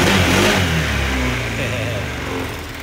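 A Honda 160cc scooter with a stock engine and a new racing injector revs hard and loud up close, its roar easing slightly toward the end, while someone talks over it.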